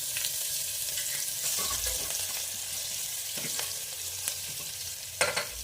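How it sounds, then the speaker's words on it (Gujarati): Chopped dry onion sautés in hot oil inside a pressure cooker, with a continuous close sizzle and occasional sharp scrapes of a stirring spoon against the metal. "ડુંગળી સરસ ગોલ્ડન બ્રાઉન કલરની થાય ત્યાં સુધી સાંતળી લઈશું."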